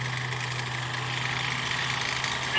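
A Sherman tank engine idles steadily at a tank show, a loud continuous low rumble with a constant mechanical drone and no speech over it.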